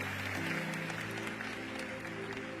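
A church audience applauds in a steady wash of clapping while a held musical tone plays beneath it, moderately distant.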